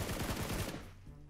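Video game gunfire rattles off in a fast, loud burst of rapid shots, then cuts away to a quieter tail.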